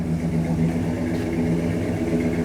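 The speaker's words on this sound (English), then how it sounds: "Oh, it's idling smooth now." An old Dodge Monaco engine idles steadily with a low, even rumble and faint rhythmic pulsing, close by and fairly loud, no speech.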